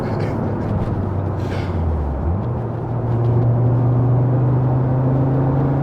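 A 400 bhp Fiat Coupe accelerates hard with wheelspin, its engine note rising from a low drone into a louder, steady roar heard from inside the car, with brief voices near the start.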